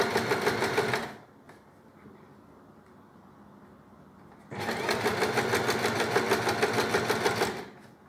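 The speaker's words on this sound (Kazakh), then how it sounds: "Мына жермен екі лапканы ортасынан тігеміз, осы жолға қарап." Sewing machine stitching along the centre of two skirt vent flaps, running loudly for about a second, pausing with faint room noise, then resuming in a steady dense whir for about three seconds.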